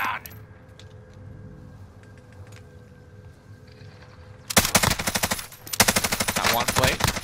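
Rapid bursts of automatic gunfire in Call of Duty Warzone, likely from a Bruen light machine gun, erupt loud and close in two sustained volleys after a quieter stretch of ambient game noise.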